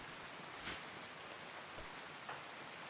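Rain falls steadily in RimWorld as a soft, even hiss, faint and distant, with a few brief crackles rising above it.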